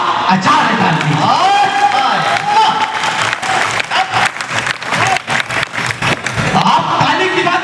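Audience at a poetry gathering during a Kajli Teej festival in Bundi breaking into loud, sustained applause, a dense crowd clatter with scattered cheers, a voice speaking over it near the start.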